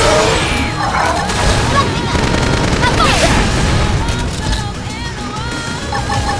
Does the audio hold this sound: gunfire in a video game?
yes